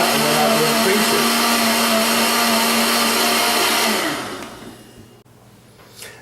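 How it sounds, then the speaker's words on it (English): A blender purees a celery, onion and garlic soup base with a loud, steady motor whir, then spins down and falls silent after about four seconds. "I'm going to puree this into a nice smooth mixture"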